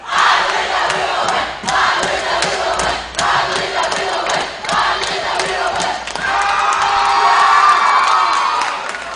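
A basketball crowd at a varsity boys game against AC Lincoln cheers and shouts loudly and steadily through the fourth quarter, a dense roar of voices with whoops that surges louder near the end.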